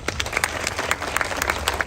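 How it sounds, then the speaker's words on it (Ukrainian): An audience applauds at the opening of a veterans' development centre in Zhytomyr, with dense, steady clapping from a crowd that holds at full strength throughout. "Давайте привітаємо всі разом оплесками"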